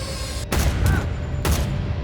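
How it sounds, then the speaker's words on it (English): Several gunshots fired in quick succession, loud booming reports about a second apart, close and heavy with low rumble between them and no talk. "They shoot him 6 times"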